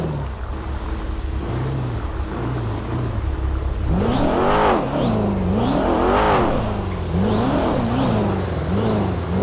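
Car driving in GTA 5, engine revving up and down in repeated swooping surges, loud and steady with a low idle hum before the revs climb.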